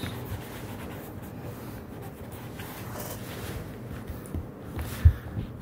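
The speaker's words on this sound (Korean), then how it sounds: "색칠 공부합시다." A pen scratches steadily across paper while a math diagram is colored in, a soft continuous rubbing and scribbling texture at close range with no talking.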